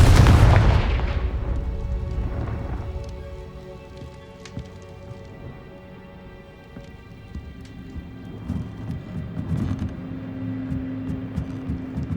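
A Confringo fire spell explosion in the wizarding game Hogwarts Legacy opens with a loud booming blast that decays into a rumbling tail, followed by quieter crackling effects and a soft musical bed.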